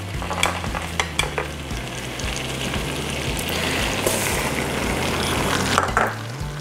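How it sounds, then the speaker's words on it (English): Sugar mixture boiling in a pan during holiday baking, a steady close bubbling sizzle with occasional sharp clicks and stirring knocks, no voices. "you're going to want this to boil for 2 minutes once you add the sugars"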